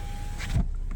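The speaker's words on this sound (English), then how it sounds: "my window button, it goes all the way down" Electric window motor of a 2022 Skoda Superb 1.5L Ambition whirs briefly as the glass runs down, a short close mechanical hum ending in a soft thump, with no talk.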